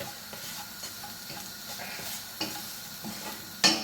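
Cabbage and a little tomato puree stirred in a hot pan for a Jamaican-style dish, with a quiet sizzle under scraping utensil strokes and a sharp clink near the end.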